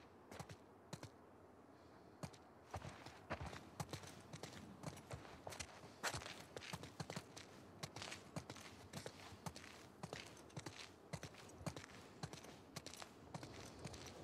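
Horse hooves walk along in The Last of Us Part II, a steady run of soft, uneven clops amid outdoor game ambience, moderately close with no talking.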